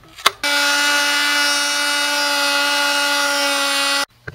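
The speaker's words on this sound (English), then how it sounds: "I had to cut that clamp with a Dremel tool." Dremel rotary tool cutting through a metal hose clamp on a Subaru WRX intercooler hose, a loud, steady high-pitched whine that runs for about three and a half seconds, then stops abruptly.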